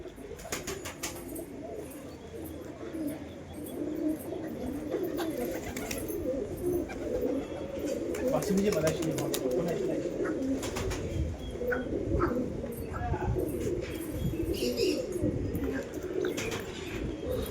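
A pigeon perched on a rooftop coos in soft, repeated low calls, fairly near but quiet, with light background noise and a few faint chirps.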